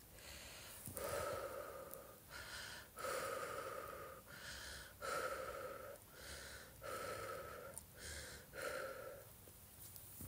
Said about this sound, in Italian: Aumenta il respiro, respirando dalla bocca, così.